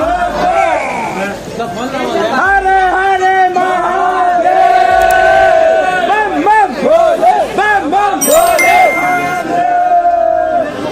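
Dense crowd of devotees at Mahakaleshwar temple in Ujjain during heavy rain, a loud continuous babble of many voices with rising chants and shouts layered throughout.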